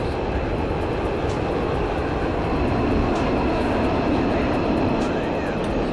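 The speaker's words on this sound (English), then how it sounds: "one nice thing about having the canopy missing in the Mirage is you can actually tell what the engine's running at from the sound of it" Steady, loud roar of a Dassault Mirage jet engine in DCS World with the canopy missing, a broadband rushing drone with a faint whine, constant throughout with no talk.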